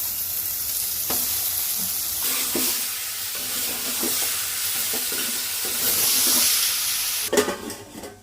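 Mutton fries in a pan with ginger, garlic and turmeric, giving a steady, loud sizzle and hiss broken by the scrape and clatter of stirring.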